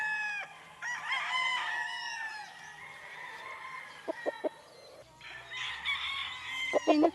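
A young Sweater gamecock stag crows loudly nearby, then gives sharp clucks and more crowing, with other farm fowl faintly audible in the background.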